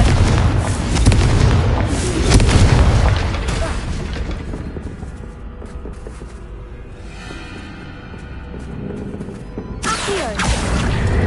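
The Confringo blasting spell in the Hogwarts Legacy video game lands with a loud, deep boom, then a rumbling tail that fades over several seconds before a second burst of noise flares up near the end.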